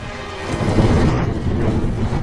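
Steady heavy rain with a low rumbling of thunder underneath, continuous and fairly loud throughout, with no voices.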